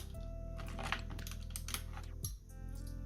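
Keycaps are pried one after another off a computer keyboard, sharp plastic clicks and snaps at an uneven pace over a low steady hum, fairly quiet and close.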